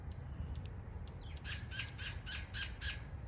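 A Gila woodpecker gives a rapid series of bright, squawky calls, about seven or eight repeated notes in quick rhythm, fairly faint over steady low background noise.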